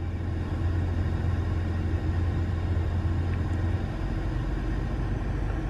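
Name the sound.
2016 Dodge Ram EcoDiesel truck running on a dyno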